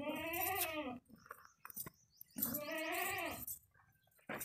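A goat bleats twice, loud and close, with quieter rustling and chewing noises between the calls.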